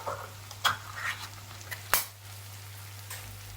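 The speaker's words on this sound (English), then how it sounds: "those sausages are starting to cook lovely" Sausages fry in a casserole pan with a soft, steady sizzle, broken by a few sharp pops and clinks, alone with no talking.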